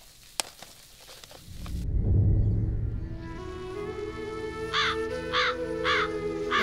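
Crows caw outdoors in a Tamil household setting, with a low rumble and shuffling first, then a run of four loud, evenly spaced caws close by.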